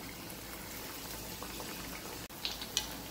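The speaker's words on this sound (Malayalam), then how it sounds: "എണ്ണ ചൂടാകുമ്പോൾ നമ്മൾ ഈ കോട്ട് ചെയ്ത് വെച്ചത് ഇട്ട് കൊടുക്കാം." Coconut-coated banana pieces sizzle in hot sunflower oil, a steady bubbling hiss at low volume with a brief clink near the end.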